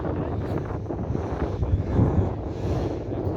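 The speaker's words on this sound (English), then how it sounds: "Let the wind fill the sail up." Gusting wind rumbles across the microphone on Corralejo beach in Fuerteventura, as wind fills a sail, a loud steady low roar with some surging, no clear voices.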